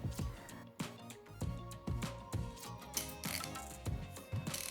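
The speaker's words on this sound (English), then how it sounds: "Listen to the gear mechanism, smooth and silky." A Hazet long 1/2-inch fine-tooth ratchet made in Germany is worked back and forth, giving a series of quick, close, fairly quiet clicking and ratcheting bursts in an irregular rhythm.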